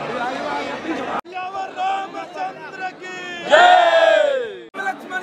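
Devotees crowd Hanumangarhi temple in Ayodhya, a dense wash of voices and chanting cries swelling into a loud collective call near the end, with a nearby voice talking over the throng.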